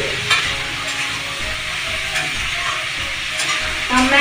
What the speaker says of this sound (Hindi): हमर प्याजो भुजा रहल यऽ